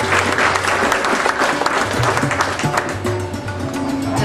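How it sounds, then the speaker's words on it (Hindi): Audience applause welcomes a guest at a 2008 camp event in Nashik, a dense, steady wash of clapping that fills the room throughout, with a faint tonal music bed running underneath. "तालियों से स्वागत कीजिए"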